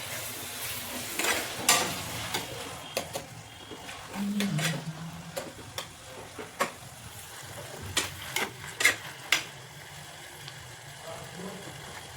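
Paneer curry with freshly added tomato fries in a pan, a low sizzle under scattered spoon scrapes and clinks against the pan, with brief background voices.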